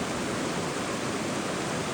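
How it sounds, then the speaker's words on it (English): A steady, dense roar of a waterfall and fast-flowing stream in a river valley, loud and close with no voices or other sounds. "I feel like I could come down that waterfall, and then it's not, the water's not even that deep"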